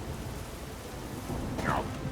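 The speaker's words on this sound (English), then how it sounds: "But it started to rain heavily." Heavy rain falls in the video game The Witcher, a steady close hiss of downpour with a low rumble beneath, and a brief voice near the end.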